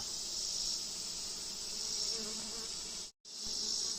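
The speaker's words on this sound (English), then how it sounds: "these bees are doing their job" A steady, dense buzz of many honey bees swarming close around a hive, continuous and loud, with one brief dropout near the end.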